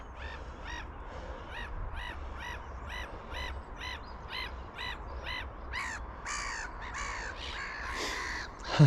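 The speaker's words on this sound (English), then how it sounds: "Seagulls." Gulls call in a repeated series of sharp, harsh cries from fairly close by. The cries grow louder and more crowded toward the end, over a low outdoor rumble, with no talking.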